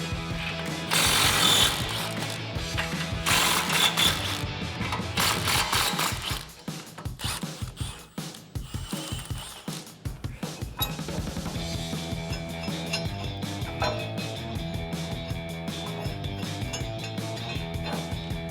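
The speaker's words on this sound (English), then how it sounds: "So we're gonna loosen up and take off all 4 of our nuts. So we're gonna grab our impact and 21mm socket." An impact wrench with a 21mm socket zips U-bolt nuts off the front axle of a 2004-2020 Ford F-150 during a leveling lift install, with loud, close rattling bursts early on followed by steadier mechanical whirring and clatter.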